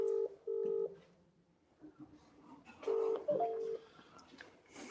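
An outgoing telephone call rings through a speaker with two paired ringback tones, each a double burst, separated by a pause filled with faint background noise.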